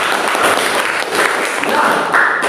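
Sustained applause from a classroom of students, dense and steady clapping that fills the whole stretch at close range with slight swells, no clear talk over it.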